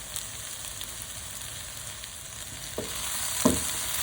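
Chicken curry ingredients cook down in a hot pan with a steady broadband sizzle throughout, joined by a couple of brief utensil knocks or stirs near the end.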